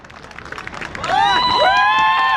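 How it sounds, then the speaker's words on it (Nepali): A crowd at a Gen Z youth political rally cheers and shouts as a leader is welcomed, a rising swell of voices with loud sustained whistles or whoops over general babble. "सबैले जोरदार ताली दिएर स्वागत गरिदिनु होला।"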